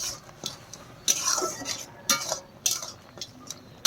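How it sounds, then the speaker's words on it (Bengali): Metal spoon scraping and clinking against a pot while taro leaf curry with fish head and lemon juice is stirred, several distinct strokes close by with no talking. "আর লেবুর রসটা দেওয়ার পর আমি একবার ভালো করে নাড়াচাড়া করে নিচ্ছি।"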